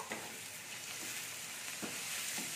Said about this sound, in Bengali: এই দেখুন, আমি এটাকে ভালো করে নেড়ে নিচ্ছি।